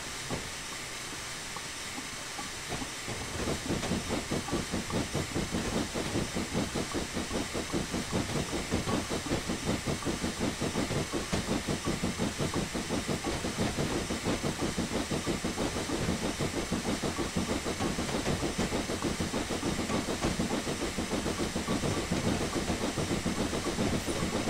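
A Black 5 steam locomotive on the North Norfolk Railway in Train Simulator starts from a soft hiss and then settles into a steady, loud, rapid chuff with continuous steam hiss, with no voices.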